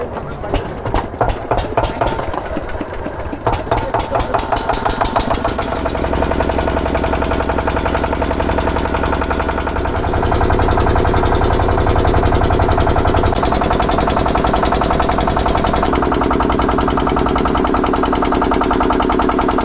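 Boat engine on a river crossing to an island ghat in West Bengal, a loud, close, steady chugging drone that shifts pitch and pace as it runs, with voices talking over it.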